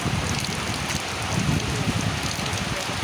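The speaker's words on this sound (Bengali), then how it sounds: "ঠান্ডা ঠান্ডা বৃষ্টি করছে" Cool rain falls in a steady, dense hiss that stays even and close, with no voices over it.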